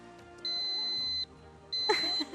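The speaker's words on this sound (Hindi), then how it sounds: "आपने बजर दबाया है।" A game show buzzer is pressed, giving two long, steady, high electronic tones separated by a short gap, loud and close, with a burst of voices during the second tone.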